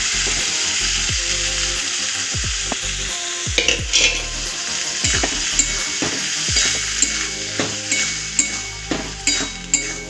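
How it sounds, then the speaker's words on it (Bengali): Boiled potatoes are stirred in a hot wok (kadai) for ghugni, a spatula scraping in steady repeated strokes over a constant, loud frying sizzle. "এবার কড়াইটার আলুটা সেদ্ধ করা, সেটাকে দিয়ে একটু নাড়িয়ে মধ্যে তারপরে জল দেবো।"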